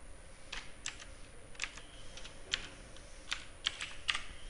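Quiet keystrokes on a computer keyboard tap in an irregular rhythm, a handful of distinct clicks spaced through a few seconds with nothing else around them.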